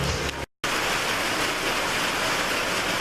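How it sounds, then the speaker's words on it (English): Steady hard rain drums on a workshop roof, a dense even hiss that fills the whole stretch after a brief cut near the start. "it's going to be super hard to hear right now with the rain hitting the roof"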